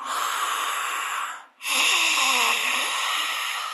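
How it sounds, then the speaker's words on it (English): Loud, rough ujjayi breath hissing through a constricted throat with the mouth open, a long exhale, a brief pause, then another drawn-out breath. "that really constricted throat sound"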